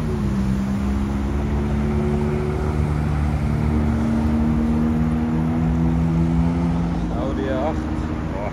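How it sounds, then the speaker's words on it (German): A McLaren 570 Spider drives past at night on a Zurich street, its loud, steady engine drone holding close before the pitch climbs and wavers near the end. "Jetzt kommt hier ein McLaren 570 wieder. Spider sogar."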